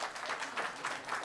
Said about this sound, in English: I would request a huge round of applause to the two trading platforms